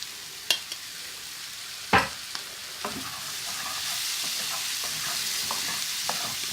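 Vegetable curry with base gravy frying in a pan, a steady close sizzle punctuated by a few sharp spatula knocks and scrapes, with stirring sounds continuing beneath the hiss.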